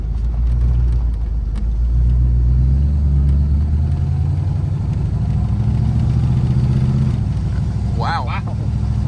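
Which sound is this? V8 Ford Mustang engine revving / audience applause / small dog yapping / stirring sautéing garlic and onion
V8 Ford Mustang engine revving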